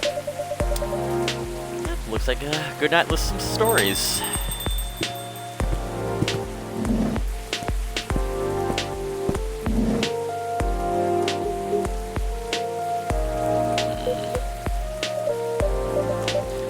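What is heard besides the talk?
rain outside in the video game Coffee Talk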